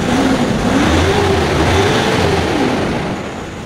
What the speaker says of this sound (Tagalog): Try natin i-rev.